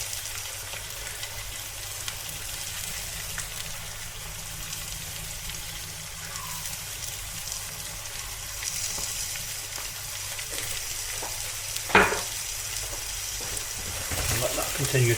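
Black pepper, salt and paprika frying in a pan for a quick spicy Spanish egg dish, a soft continuous sizzle with occasional stirring scrapes and one sharp clink near the end.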